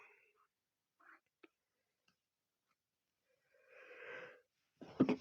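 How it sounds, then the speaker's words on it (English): A single sharp sneeze bursts out near the end, preceded by a couple of quick breathy inhales and a short sniff, otherwise quiet. "I will have to sneeze in a minute"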